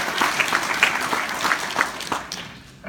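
Crowd applause at a talk by the CEO of Chicago's Urban Prep, loud and close with overlapping claps that gradually thin out and fade toward the end.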